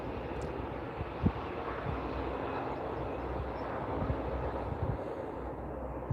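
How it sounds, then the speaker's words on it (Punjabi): A passing train produces a steady, moderately distant low rumble and roar that holds evenly for several seconds, with a few faint knocks and no talking. "ਟ੍ਰੇਨ ਦੀ ਆਵਾਜ਼ ਤੇ ਕਮ ਸੇ ਕਮ ਜ਼ਰੂਰ ਆ ਜਾਏਗੀ।"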